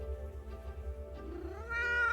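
A pet cat meows indoors over a steady low hum, starting with soft murmurs and rising at the end into one drawn-out, louder meow close to the microphone.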